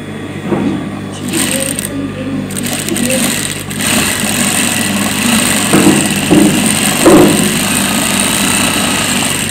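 A sewing machine stitches a djellaba with a steady close mechanical whir and a fast needle chatter, with faint bumps of handling throughout.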